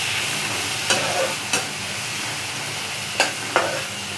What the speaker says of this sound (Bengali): টমেটোগুলো বেশ খুন্তি দিয়ে চেপে চেপে দিচ্ছি